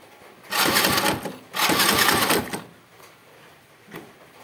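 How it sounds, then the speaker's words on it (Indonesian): A car engine is cranked on its starter motor without catching, with two sustained whirring bursts of about a second each, then a brief faint third attempt. "ini mesinnya nggak nyala, hanya muter aja untuk ini"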